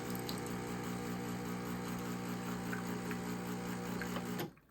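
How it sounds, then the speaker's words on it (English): An Owl Espresso G3006 espresso machine pump with a new, unheated portafilter hums loudly and steadily as water pulls through, a buzzing drone that holds for about four seconds and then cuts off abruptly. "pull a little bit of water through this"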